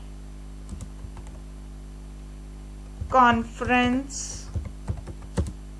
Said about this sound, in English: In the chat box I can type my queries.